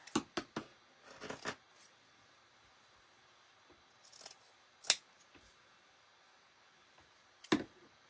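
Scissors cut paper eyeball circles for a ghost witch girl craft, several sharp close snips in short clusters separated by quiet pauses.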